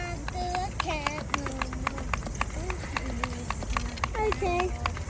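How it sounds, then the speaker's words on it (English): Hand pump inflating a repaired tyre on a Gazelle Cabby cargo bike with a front eZee motor at the roadside, making quick rhythmic stroke pulses under ongoing talk. "this is the bit now where we actually pump it up"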